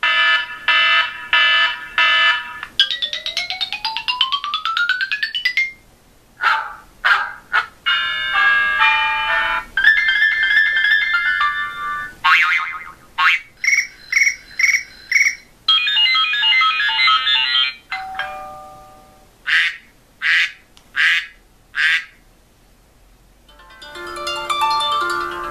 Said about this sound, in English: We still have all our original ringtones in the classic folder,